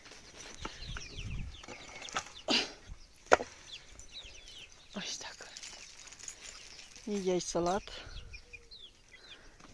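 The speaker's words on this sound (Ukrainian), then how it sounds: "А ось так мої курчатка бігають на дворі." Backyard chickens and a rooster moving about a farmyard, with scattered clucks and brief calls amid outdoor bustle; someone speaks softly at times between the bird sounds.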